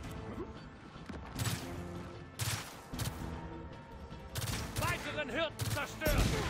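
Gunfire in the video game Gears of War 4, a steady series of loud rifle bursts and impacts over game music and effects, with someone talking between the shots.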